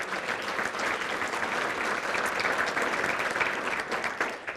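An audience at a Martin Luther King Jr. breakfast event claps for elected officials and VIPs, a dense, steady burst of applause filling the room without a break, close and fairly loud, with no talk over it.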